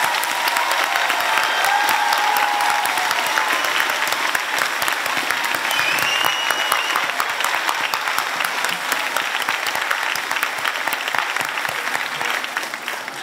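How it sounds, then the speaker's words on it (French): Loud, sustained audience applause for students at a school excellence evening, dense clapping that stays strong for over ten seconds and eases off slightly at the end. "Je vous invite donc à donner une bonne main d'applaudissement à tous les élèves,"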